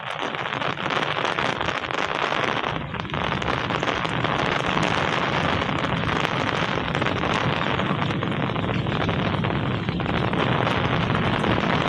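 Steady rain pours down outdoors where goats and pigeons are kept, a dense, continuous hiss lasting throughout at close range with no speech.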